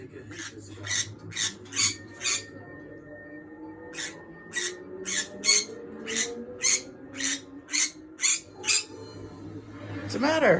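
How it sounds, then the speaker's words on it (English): A pet bird squawks in a quick series of sharp, repeated calls, grouped in bursts with short pauses, close to the microphone over a low background of movie sound. "she started squawking"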